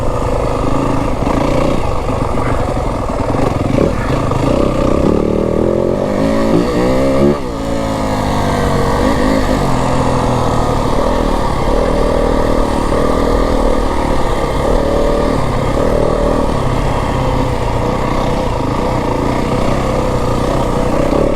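A Yamaha WR250F dirt bike on single track runs loud and steady throughout, its engine note swelling and easing as the rider works the throttle, with a brief dip partway through.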